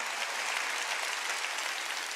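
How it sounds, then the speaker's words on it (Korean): A church congregation applauding during a sermon, a thick, even roar of many hands clapping at once, sustained and fairly loud with no voices breaking through. "박수."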